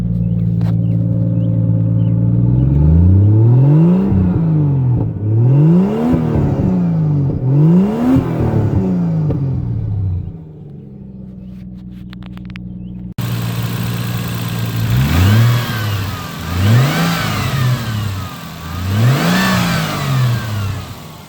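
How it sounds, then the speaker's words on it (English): A Toyota 7M-GTE engine in a 1987 Toyota Supra Mk3 idles and then revs repeatedly, rising and falling in a series of throaty pulls, loud and close with no talking. "let's do a couple revs just so you guys can hear the 7M GTE in this car"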